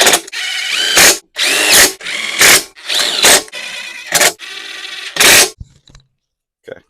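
Power tool snugging down bolts on a Briggs and Stratton engine with no compression: a run of about six loud whirring bursts, some long and some short, separated by brief pauses, ending with a short spoken word.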